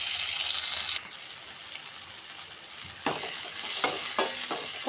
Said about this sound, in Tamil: தக்காளி போட்டு நல்லா வதக்கிடுவோம்.